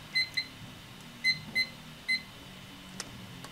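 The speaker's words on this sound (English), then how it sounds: "Gonna start the timer here." A digital timer starts with a handful of short, quiet electronic beeps, some in quick pairs, spaced irregularly across a few seconds with no talking.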